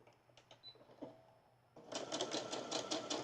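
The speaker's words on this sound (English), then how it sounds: "I'm just going to keep on sewing all these squares together" A sewing machine stitches fabric squares together. After a quiet start, a fast, even run of stitching clatter begins and keeps going to the end.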